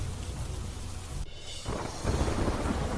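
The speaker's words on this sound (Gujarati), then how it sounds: "ગાજવીજ અને પવન સાથે વરસાદ" A thunderstorm in Surendranagar, Gujarat: a loud rumbling roar of thunder and wind-driven rain that dips briefly, then surges back as a heavy, dense downpour.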